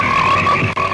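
Frogs croak loudly and steadily in a dense chorus from a horror film trailer about nature striking back, a continuous layered drone with a brief dip near the end and no voices.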